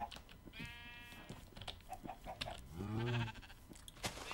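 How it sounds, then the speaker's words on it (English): Sheep in a video game bleat in a couple of short wavering calls, one early and one louder near the end, over faint game background noise and small clicks. "Why do I have the sheep that doesn't want freaking eat anything?"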